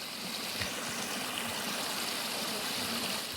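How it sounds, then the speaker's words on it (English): Water trickles and runs through a cluster of holes in a rotting old building at a New York Great Camp, a steady, close, rushing wash of noise with no voices over it. "Like where the water's coming through."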